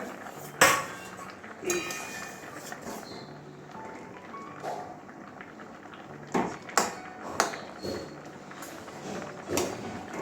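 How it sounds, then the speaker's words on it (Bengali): Metal pot lid lifted off a pan of simmering lentil dal with drumsticks and tomatoes, giving a sharp clank followed by several scattered metallic knocks and clinks of cookware, fairly close, with no talking. "এবারে ঢাকনাটা আবারও খুলছি"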